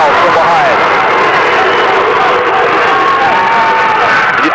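A loud high school basketball tournament crowd in a packed gym roars and cheers continuously, with whoops and shouting children blending into a dense wall of sound throughout.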